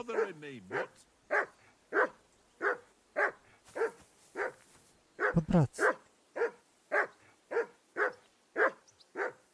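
In Kingdom Come: Deliverance 2 a dog barks over and over in a regular rhythm, roughly fifteen close barks, with a brief whistle near the start and a short spoken phrase partway through.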